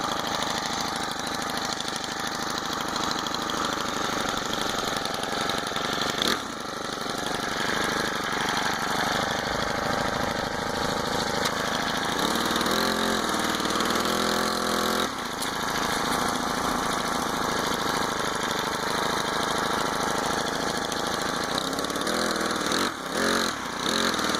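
A Gx25 four-stroke engine on a motorized bicycle runs on its first ride, a steady buzzing drone that rises and falls with the throttle, loud and close throughout with no talk.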